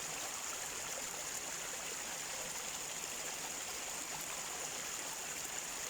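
A flowing stream, a steady broadband rush and trickle of water that stays even and continuous, moderately close, with no voices over it.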